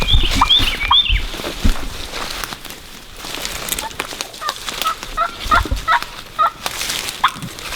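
Wild turkey gobbler on public land in Alabama, gobbling loudly and repeatedly in several bursts among outdoor rustling and patter, with no talk.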